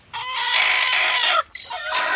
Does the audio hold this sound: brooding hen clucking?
yes